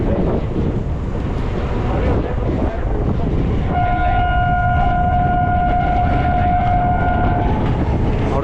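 Coromandel Express train running on the rails after leaving Shaktigarh station on the Howrah line, with a loud steady rumble, wind noise and sustained high steel wheel squeal that begins partway through.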